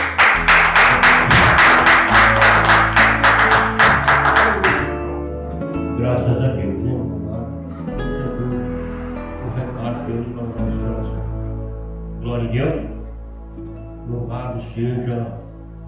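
A church congregation applauds the Lord during an evening service, with loud, fast rhythmic clapping for about five seconds. A voice then speaks over faint scattered claps.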